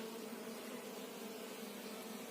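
Honey bees hum around small nucleus hives as they are merged into combined colonies, a steady, faint, dense buzz with no clear breaks.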